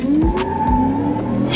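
Supercharged Ford F-150 with a Whipple supercharger on a stock 5.0 makes a quick, loud acceleration pull, engine tone rising with a whining supercharger note and sharp low thumps.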